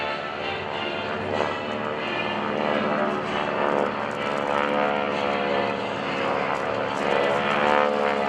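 GEICO Skytypers propeller aircraft fly past in formation at an airshow, a steady droning engine roar that stays loud and close throughout with little change in level.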